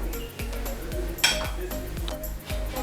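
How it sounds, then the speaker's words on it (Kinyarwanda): Chicken pilau rice being served onto a plate, with a serving spoon clinking and scraping against the dish in a steady rhythm, and one sharper clink partway through. "Tugiye kuwanga tuwushyire ku isahani"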